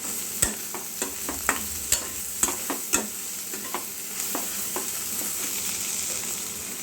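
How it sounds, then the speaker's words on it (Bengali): Turmeric and spices stirred into a frying lentil tadka, a spoon knocking sharply against the pan about once a second over a constant loud sizzle, then fainter scraping, no talking. "এটাকেও আবার মিশিয়ে দেবো।"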